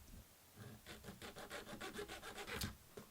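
A short wooden stick, trimmed to about six inches, is sawn by hand in steady back-and-forth strokes, roughly a dozen rasping passes close up with no talking.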